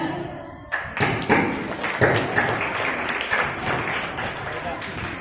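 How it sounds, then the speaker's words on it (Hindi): Hand clapping on stage during a Ram stage play, with a few sharp claps and thuds over a noisy hall, voices of performers and audience mixed in. "श्री राम के ताली बजाते ही द्वारपाल का प्रवेश होता है।"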